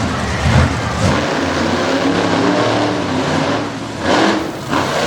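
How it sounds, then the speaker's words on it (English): Two Chevrolet drag race cars launch and accelerate at a drag strip in Bloomsburg, PA, a loud sustained engine roar that swells and surges across the whole stretch, close and dominant. "A pair of Chevys opening things up here in racing."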